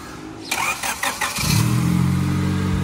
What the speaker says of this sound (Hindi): ये जनाब हो गई गाड़ी स्टार्ट।